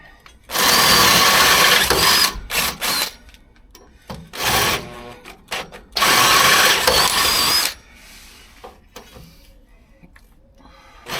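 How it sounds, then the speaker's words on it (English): A power drill cleans out bolt holes in steel with a 10mm bit while fitting a heavy-duty Terrafirma rear sway bar to a Land Rover Defender 110, giving two sustained loud whining bursts separated by shorter grinding spurts, with no talk. "I'll probably just give these a quick clean up with a 10mm drill bit"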